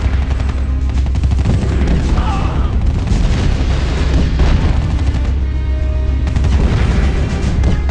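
Dense battlefield gunfire and booming explosions from the mobile strategy war game Art of War 3, loud and continuous throughout, with machine-gun bursts and heavy blasts layered together.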